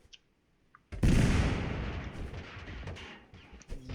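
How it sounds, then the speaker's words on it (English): Grenade blasts in the video game Totally Accurate Battlegrounds: a loud, close explosion bursts in after a near-silent second, then rumbles and fades with a few smaller pops. "they're chucking grenades at me"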